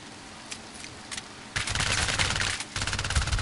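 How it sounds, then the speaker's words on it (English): Bursts of SMG gunfire in the Syndicate shooter game, a few quick spaced shots followed by sustained rapid automatic fire that loudly dominates. "this guy's got an SMG and he cannot hit me worth crap"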